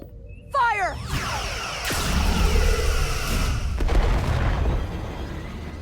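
Starship weapons fire on an enemy ship in the Star Trek: Resurgence video game, opening with sweeping energy bolts and followed by heavy booms and thuds over a continuous rumble.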